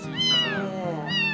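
A cat meows twice up close, a drawn-out wavering call followed by a shorter one, over a low steady background hum.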